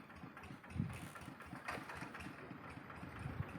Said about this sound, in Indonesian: Ini ada traktor yang akan menuju sawah.